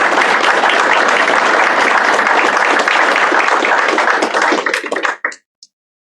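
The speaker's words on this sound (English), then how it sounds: "let's give Jahia and Peyton a round of applause" A room full of people at a signing day event claps loudly in a dense, even burst that thins into a few scattered final claps and then stops abruptly.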